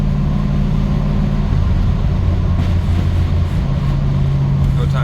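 A 1955 Chevrolet Bel Air's transmission gives off a loud, steady low mechanical drone and whine that stays constant throughout, with a faint voice beneath it.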